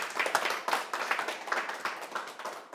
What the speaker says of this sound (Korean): 박수 한번 쳐보실까요?